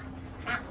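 Ducks in a barn among chickens, turkeys and goats, with a single short, nasal quack rising briefly over a low, steady background hum.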